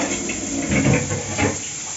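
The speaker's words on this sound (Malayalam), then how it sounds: "You have to saute it till golden brown." Sliced onions sautéing in ghee for chana masala, a loud, steady, close frying hiss that swells slightly twice, with no talk.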